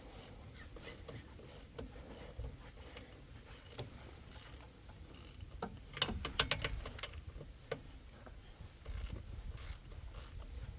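Big brake caliper bolts being tightened on the rear brakes of a 2003 Cadillac CTS with a ratchet, giving steady mechanical clicking and ratcheting throughout, with a louder burst of metallic clacks in the middle and no talk.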